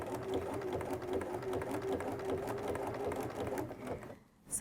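A sewing machine stitches a satin-stitch buttonhole in a steady, rapid rhythmic whir that runs close and loud, then cuts off near the end.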